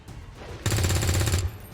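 Soldiers in XCOM 2 fire a rapid, loud burst of gunfire lasting under a second, close and dense, after a quiet lead-in with no talking.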